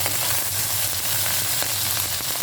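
Tomatoes fry in a pan for a bottle gourd (lauki) dish, giving a steady, dense sizzle that carries on without a break and with no voices.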